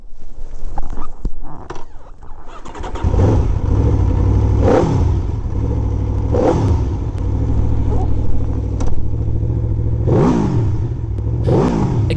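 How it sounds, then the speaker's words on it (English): An Aprilia RSV4 motorcycle's exhaust note while riding: a loud, deep, bassy engine drone that swells in repeated rev surges, rising and falling under steady road rumble, with no talk. "another much bigger and bassier note as soon as you put it in gear"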